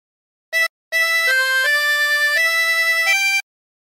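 Harmonica phrase from There's a River of Life: a short opening note, a pause, then a sustained run of clean single notes stepping up and down, close and steady, no voice.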